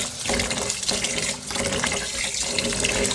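Polao rice, about 1.25 kg, being rinsed in water for a third wash, with a steady splashing and running-water wash that continues throughout, close and fairly loud.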